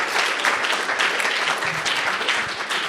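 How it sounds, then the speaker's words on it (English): Loud, dense applause from a live audience honoring a senator, continuous clapping filling the whole stretch without any voice over it. "Please give a nice round of applause."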